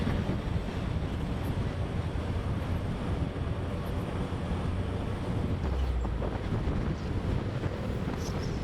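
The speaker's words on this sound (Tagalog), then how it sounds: "Lakas lang hangin." Strong wind buffeting the microphone on a motorcycle ride past mountains on Mindoro, a constant loud rumbling roar that goes on without a break.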